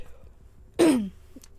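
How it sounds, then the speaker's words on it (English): A single harsh cough or throat-clearing burst, close and loud, rising abruptly from quiet room tone after a performance and trailing off in about a third of a second. "Sorry, I keep coughing."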